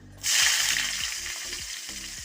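Onion, a dried red chilli and curry leaves dropped into hot coconut oil for crab roast, bursting into a loud, close sizzle that holds steady and slowly eases, with faint low bumps of handling underneath.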